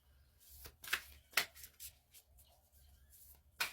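Mermaid oracle cards being shuffled in a few quick, soft riffling bursts, close but faint in a quiet room.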